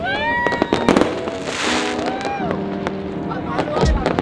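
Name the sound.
New Year fireworks in Bangkok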